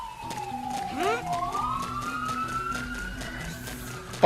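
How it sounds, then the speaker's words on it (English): A police siren wails outside in the video game Xenoblade Chronicles X. A single rising and falling siren sweep carries over a steady background of game sounds. "sirens outside."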